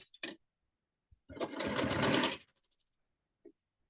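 A sewing machine stitches a quilt block for a Tulip Twist pattern, running in one steady, close whirring burst of just over a second, with a few faint clicks of handling before and after.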